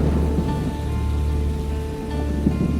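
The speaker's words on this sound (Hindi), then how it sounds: "आज हल्की हल्की बारिश है" Light rain falling in Lahore, a steady even patter of drops on surfaces with a faint low rumble beneath, continuous and close with no voices.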